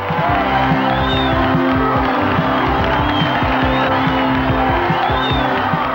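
Thousands of fans line the course at the 1981 Coors International Bicycle Classic, a continuous dense roar of cheering and shouting with occasional whoops rising out of it.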